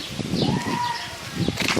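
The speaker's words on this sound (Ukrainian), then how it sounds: "Голуби захищають голубів." Pigeons coo and flutter close by, with soft wing flaps and rustling in a brief burst.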